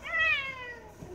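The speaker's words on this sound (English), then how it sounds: "A cat?" A single clear, close cat meow rises and then falls in pitch, followed by a soft faint thump in a quiet indoor space.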